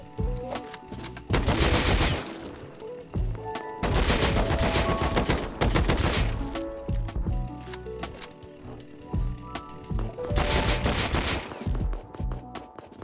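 Auto turret firing at zombies in the video game Rust, three long bursts of rapid gunfire with mechanical whirring between them, loud and close with no talk.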